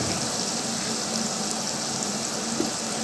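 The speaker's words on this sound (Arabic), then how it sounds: "هنقلب كده الجمبري كويس مع الثوم" Shrimp fry with garlic in a pan while being stirred, giving a steady, dense sizzle that holds evenly throughout, close and continuous with no talk.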